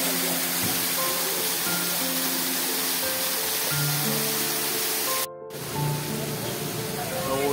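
Waterfall cascading down from above at Garhwal Point on the route to Kedarnath, a steady broadband rush of water that continues throughout, briefly cut off and then resuming, with people's voices faint beneath it.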